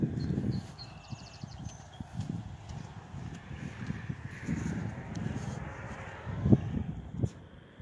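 Horse hooves clip-clop on a hard surface in a steady walking rhythm at a park in Grand Island, Nebraska, fairly close, with a few sharper knocks near the end.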